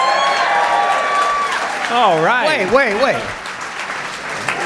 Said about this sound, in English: So we want to practice sort of applause and yelling when they come out.